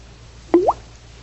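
A single drip from a leaky faucet, one clear plop with a rising ring, quiet room otherwise.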